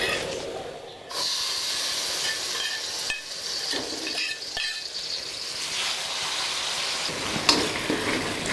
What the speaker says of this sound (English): Wait until the oil hot enough and add the chili paste.